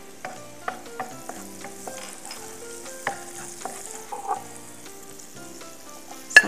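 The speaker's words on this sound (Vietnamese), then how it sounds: "Trước hết chúng ta xào qua rô." Vegetables being stir-fried in oil in a hot pan for a vegetarian spicy tofu with mushroom sauce, with a steady soft sizzle broken by repeated clacks and scrapes of a utensil against the pan, close and without talk.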